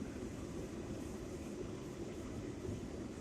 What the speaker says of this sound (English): This is a Brooklyn bound 4 express train.